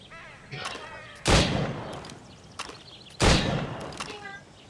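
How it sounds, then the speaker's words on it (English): Two loud, sharp gunshots fired at training targets in the Assassin's Creed Rogue game, spaced about two seconds apart, each with a long echoing tail over faint background game ambience. "Go on. Shoot these targets."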